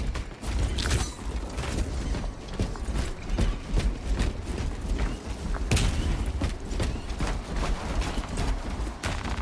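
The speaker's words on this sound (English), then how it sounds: "I have to reload." Weapon reloading in the video game Warhammer 40,000: Space Marine 2, a run of close metallic clicks, clacks and ratcheting mechanism sounds in irregular bursts over ambient battle noise.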